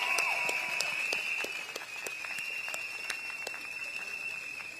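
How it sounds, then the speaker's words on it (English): Sustained applause and clapping from a large crowd at an outdoor People's Action Party election rally in Woodlands Stadium, steady throughout with a faint high whine running underneath. "Shall we give them a big round of applause?"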